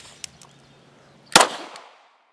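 A Canik TP9 SF Elite handgun's slide is racked during malfunction clearing: a couple of light mechanical clicks, then one sharp, loud, close metallic clack that rings off briefly.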